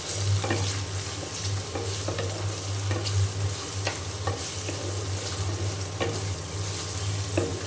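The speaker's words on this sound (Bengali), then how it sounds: "মশলা দিয়ে আমি ভালো করে কষিয়ে নেব" Spices stir-fried with already fried onions for a beef and khichuri meal, a continuous loud sizzle in the pan with recurring spoon scrapes and knocks, close, with a low steady hum underneath and no talking.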